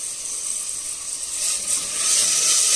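Mushrooms and carrots sauté in a pan on high heat, giving a steady, bright sizzling hiss that grows louder toward the end, with no talking.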